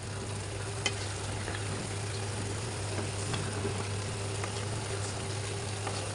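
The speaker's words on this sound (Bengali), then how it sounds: "এখন আমি ভালোভাবে নেড়ে চেড়ে দিব।" Chinese-style mixed vegetables with tomato sauce and green chilies being stirred in a frying pan, a steady soft sizzle with faint scraping, no talking.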